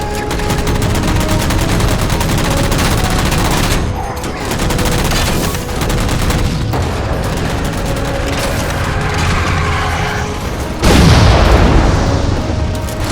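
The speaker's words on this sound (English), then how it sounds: "Shoot them down." Rapid automatic gunfire rattles almost without pause in Halo 4 as jammers are shot down, with heavy booms and blasts layered in, loud and close, and a bigger explosive burst near the end.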